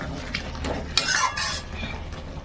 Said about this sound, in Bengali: জল দিয়ে আমি মশলাটা কষিয়ে নিচ্ছি।